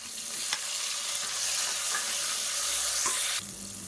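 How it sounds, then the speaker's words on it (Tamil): Whole shallots, garlic cloves and a tomato fry in hot oil for a Tamil kuzhambu, giving a loud, bright, continuous sizzle close up, with a few sharp clicks of a spoon stirring the pan. "ஒரு 10 சின்ன வெங்காயம் முழுசாக அப்படியே சேர்த்துக்கலாம், 4 பல் பூண்டு சேர்த்துக்கலாம். இது கூடவே மீடியம் சைஸாக ஒரு தக்காளி சேர்த்துக்கலாம்."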